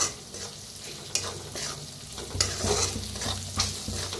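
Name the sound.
turmeric and red chili powder frying in oil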